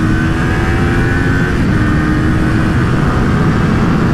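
A Kawasaki Ninja 400 ABS motorcycle engine drones loudly on a racetrack at steady high revs, a close, sustained buzz mixed with heavy wind noise.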